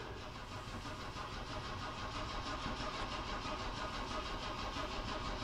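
An Opel Manta B engine cranks over without catching, a steady churning starter-motor drone heard close and continuous with no talk.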